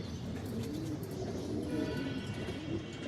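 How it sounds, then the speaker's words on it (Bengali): Female racing pigeons coo softly in low, throaty, repeated murmurs, faint and close in a loft, with a faint steady background rumble. "এখানে 5 পিস মাদি কবুতর রাখা আছে দেখেন"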